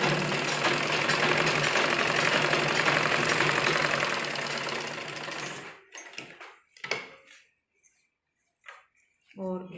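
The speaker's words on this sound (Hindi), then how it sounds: "किनारे पर हम सिलाई लगाएंगे और जो निशान है उसको हमें बिल्कुल मिलाना है।" Sewing machine stitching a suit made from saree fabric, running loud and steady for about five and a half seconds, then stopping and leaving scattered handling noises and brief sounds.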